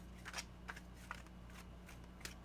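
Soft papery flicks and riffles of tarot cards being shuffled, a few quiet bursts close by in a hushed room.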